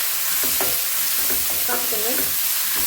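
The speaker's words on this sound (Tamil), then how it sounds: "வெங்காயம் நல்லா வதங்கணும்." Onions sautéing in a pan for white chicken kurma, a continuous close sizzle and crackle of frying with occasional stirring scrapes and faint tonal clinks over the hiss.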